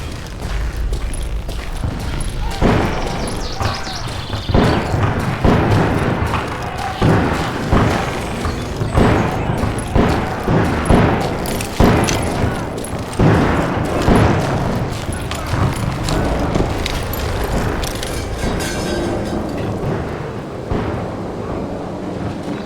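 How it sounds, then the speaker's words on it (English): Repeated heavy booms and thuds from a bridge explosion and gunfire in the video game Call of Juarez: Gunslinger, loud blasts pounding in an irregular series over a long stretch, with a narrator's voice over them. "They blew the bridge with the intention of forcing the train to stop."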